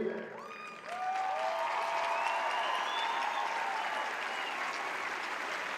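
A stadium audience at a US Air Force basic training graduation ceremony bursts into sustained applause and cheering for the top graduate, with whistles and shouts over dense clapping that carries on steadily to the end.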